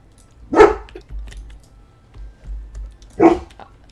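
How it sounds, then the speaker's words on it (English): Indoor dog barking at a door, two sharp single barks a few seconds apart, close and loud, with faint clicking like keyboard taps in between. "Mine is barking at the door."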